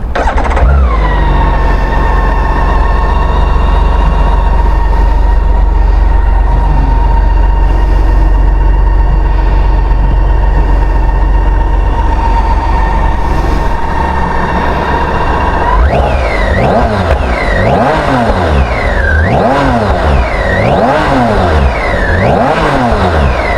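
A BMW K1600 GTL motorcycle with a twin exhaust idles loudly and steadily at a standstill, then is blipped repeatedly, rising and falling in a rhythmic series of sharp revs near the listener.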